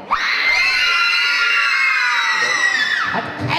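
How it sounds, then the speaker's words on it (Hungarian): A large crowd of children at a concert lets out one loud, sustained high-pitched scream lasting about three seconds, swelling together and then fading out. "mert már dal elején tudnak sikítani a gyerekek"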